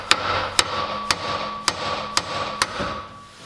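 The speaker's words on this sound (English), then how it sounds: "so I'll just hammer it out." Six sharp, evenly spaced hammer strikes on a worn front suspension part from a 2004-2006 Pontiac GTO, loud and close with metallic ringing, no talking.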